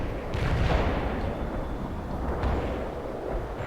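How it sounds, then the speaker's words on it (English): A heavy artillery barrage pounds down in World in Conflict, a continuous low rumbling roar of distant explosions rolling together with a couple of sharper impacts. "Heavy artillery barrage inbound."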